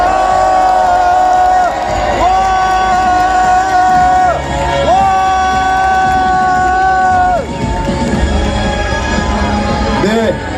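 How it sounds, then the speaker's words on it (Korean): Crowd at an outdoor rally in Mokpo opposing nuclear wastewater discharge cheering and clapping in a loud sustained din, with tonal sustained shouts or chants rising over the babble. "뜨거운 환영의 박수 부탁드립니다"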